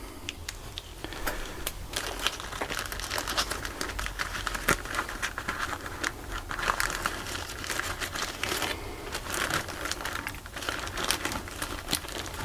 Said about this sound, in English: what you're after is sandwich bags such as this